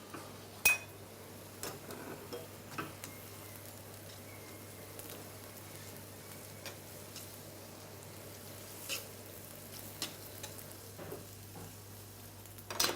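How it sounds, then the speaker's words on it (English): Langoustine pasta simmering in a pan with fish cream and langoustine juices, giving a steady low sizzle and bubble throughout, broken by occasional soft clinks of a utensil against the pan, close and without talk. "See that nicely simmering away."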